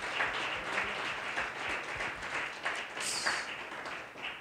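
Church congregation applauding during a Sunday sermon: dense, continuous clapping from many hands, moderately loud and even, with slight swells and a few sharper individual claps near the middle.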